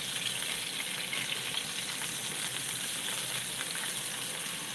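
Steak sears in a pan in a home kitchen, a steady broadband sizzle with fine crackling that holds at an even level throughout, close and alone with no talk.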